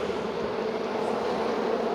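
Honeybees from a colony trying to swarm drone around the hive in a steady, dense buzz that holds at an even level throughout, close and with no voices.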